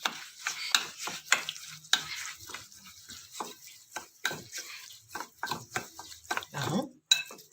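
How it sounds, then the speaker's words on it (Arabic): Spoons stirring and scraping a mix of ingredients in a bowl with two spoonfuls of oil, giving a steady run of close, irregular clinks and scrapes with no talking. "كده اقلب المكونات دي كلها في بعضها كده"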